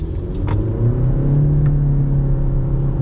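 A 2021 Honda CR-V EX-L accelerates with a steady, loud engine hum and road rumble that swells slightly and holds, with no talking.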